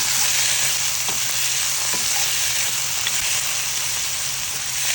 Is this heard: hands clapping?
no